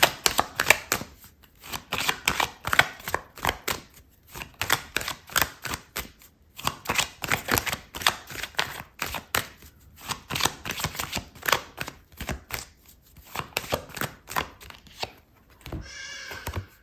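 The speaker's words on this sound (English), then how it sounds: "I'm going to pull out another card for you" Tarot cards shuffled in long bursts of rapid riffling and flicking, with brief pauses between runs and a soft slap as a card is drawn near the end, close and clear with no talk.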